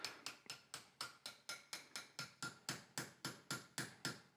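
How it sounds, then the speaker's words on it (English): Steady hammer taps drive a wall plug into timber, about four blows a second in an even rhythm, close and fairly quiet, with no talking. "What we're actually doing is hammering the raw plug"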